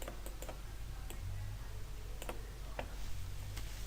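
Sparse computer keyboard key presses, a Ctrl+Shift shortcut typed while working in an Excel spreadsheet, giving a few light, scattered clicks over a low steady room hum with no talking.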